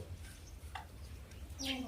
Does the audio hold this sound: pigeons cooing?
yes